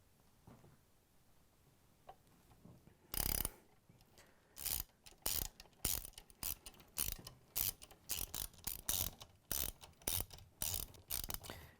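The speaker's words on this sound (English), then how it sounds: "So we're going to use a ratchet to break them loose." A ratchet cranks screws loose on a Whirlpool/KitchenAid/Maytag mixer drive motor housing, giving a close, loud run of rapid clicking bursts, repeated in quick uneven strokes after a quiet start.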